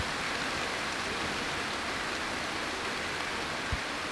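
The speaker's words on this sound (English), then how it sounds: "We haven't heard the sound of this much rain since probably the first part of June." Heavy rain pours outside in a dense, even hiss that holds steady throughout, with one soft thump near the end and no talking.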